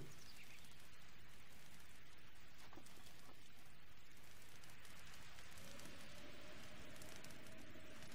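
Steady rain falling in the video game Breath of the Wild on the Lanayru mountain, a constant dense hiss of drops on surfaces filling the whole stretch at a low, even level, with no voices.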